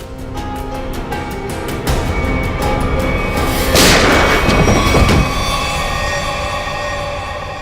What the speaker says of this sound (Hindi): सर, इसने अपने आप को गोली मार दी।